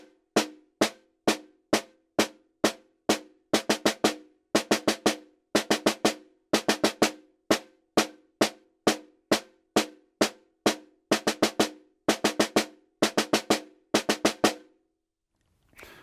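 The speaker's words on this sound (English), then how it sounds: "Let's learn a couple of exercises to help us improve our single stroke 4s" Snare drum played alone in a single stroke fours exercise, crisp close strokes starting as evenly spaced alternating single hits, then grouped into rapid bursts of four, repeating steadily with no talking.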